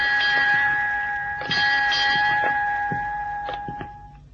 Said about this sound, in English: Who rang those bells?